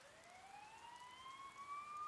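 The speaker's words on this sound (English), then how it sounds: "Your sirens nearby. Seems there's been an incident." A siren in the video game Persona 4 Golden wails upward, rising in pitch, faint and fairly distant, with nothing else audible.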